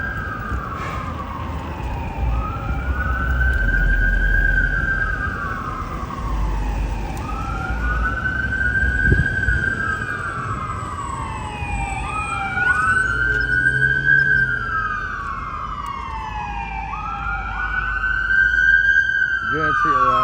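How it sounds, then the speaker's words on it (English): An ambulance siren passes on a downtown Los Angeles street, loud and close, wailing in repeated rising and falling sweeps over traffic rumble, with some talk underneath. "I guarantee that's an ambulance"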